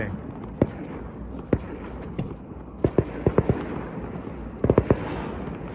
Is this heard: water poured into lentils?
no